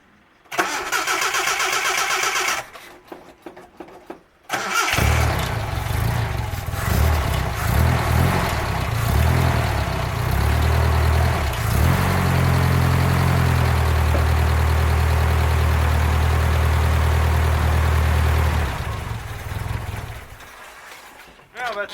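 A 1984 Nissan 4x4 engine cranks in a short burst, pauses, then cranks again and catches, settling into a loud, close, steady idle with a shift in pitch partway through before cutting off near the end.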